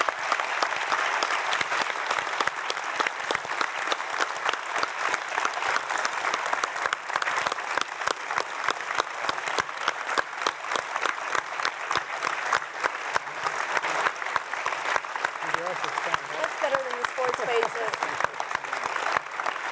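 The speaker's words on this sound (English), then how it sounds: "But right now, I'd ask all of you to join me in giving a warm round of appreciation and applause for Ed Whitlock." Sustained audience applause fills a hall after a talk on exercise and aging, dense steady clapping from many hands continuing without a break for about twenty seconds.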